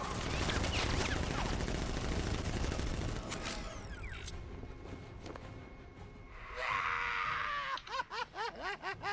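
Guards open fire in Batman: Arkham Knight, a loud, dense spray of automatic gunfire that fades into quieter scattered shots, then ends with a rhythmic run of chirping electronic pulses.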